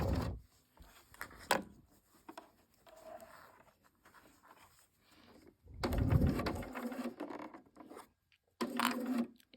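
A sewing machine stitches a seam on a knitted cardigan, with several short bursts of running stitching separated by pauses and quieter handling noises, close by and with no talking.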